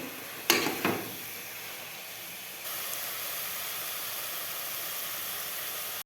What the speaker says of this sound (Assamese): মই মাংসখিনি ধুনীয়াকৈ ভাজি আছোঁ